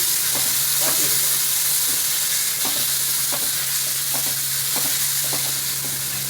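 Chopped small tomatoes stirred and sautéed in a hot pan, a steady sizzle with repeated spatula scrapes and clinks at an even rhythm, close and loud with no talking.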